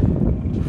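Strong wind on a high mountain pass at Chang La buffets the microphone with loud, rumbling low roar that fills the brief moment without a break.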